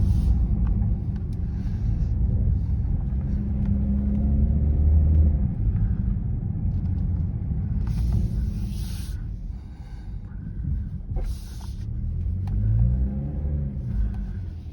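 A BMW G42 M240i with a muffler delete idles and cruises with a deep, steady exhaust rumble, close and constant, with slight swells as the engine note rises, and no talking.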